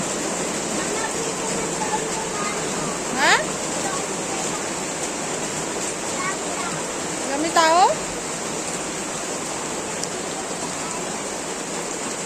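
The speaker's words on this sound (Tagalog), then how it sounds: "Ang lakas ang ulan." Heavy rain pours steadily at a school on a rainy day, a dense continuous hiss broken briefly by a couple of nearby voices and faint chirps.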